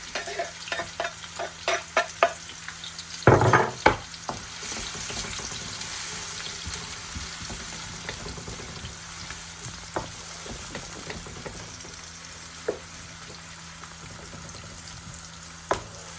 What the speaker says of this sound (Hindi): प्याज को हम ब्राउन करेंगे, लाइट ब्राउन करेंगे इसको